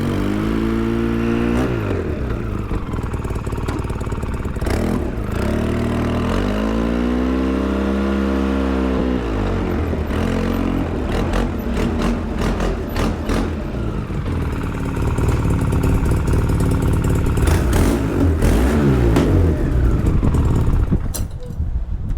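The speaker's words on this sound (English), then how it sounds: "Yep, we can do a backwards burnout." A 2003 Polaris Sportsman 700 ATV engine revs and idles close by during a backwards burnout, rising and falling in pitch with clattering surges over about twenty seconds, louder toward the end.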